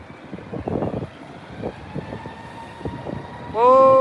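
A jet airliner lands at Heathrow in strong wind: a broad, rushing roar with gusty fluctuations, ending in a loud, rising engine whine as the aircraft passes close by.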